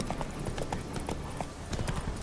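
A horse gallops in The Witcher 3 video game, its steady clip-clop hoofbeats moderately loud and even, alone over faint ambient game sound.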